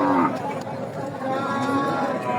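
At a cattle market, a young heifer gives a low drawn-out moo up close, with market chatter and voices mixed in around it.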